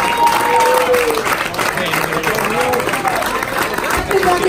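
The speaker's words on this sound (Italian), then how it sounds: "Un grandissimo applauso" A crowd at a live music venue applauds a tribute band, a loud, steady spread of clapping mixed with cheering and crowd babble throughout.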